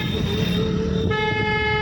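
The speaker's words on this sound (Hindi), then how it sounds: "हॉर्न को लंबा दिया करो।" Car horn honking during a driving lesson, one long steady toot close by over road and engine noise.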